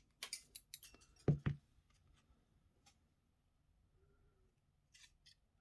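Small cutters snipping a part during watch modding, a couple of quick sharp metallic clicks close up, with light handling taps before and faint ticks afterward in a quiet room.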